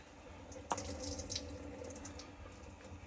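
Boiling-hot water drips and trickles from a towel being wrung out by hand while making lasagna roll ups, a faint splashy patter with one sharper splash near the start, close and quiet, no talking.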